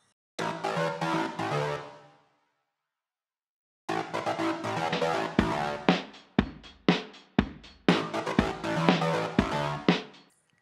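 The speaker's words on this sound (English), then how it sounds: "I used a bass synth with the bass frequencies taken out as sort of the lead riff thingy." A bass synth with its low end removed plays a lead riff in short bursts, a sustained phrase, a gap, then choppy rhythmic stabs, fairly loud and close with no talk.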